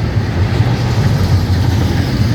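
Florida East Coast Railway freight train 107 rolls past in St. Augustine, Florida, carrying many trailers, a loud close continuous rumble of wheels on rails with a steady low rhythmic clatter.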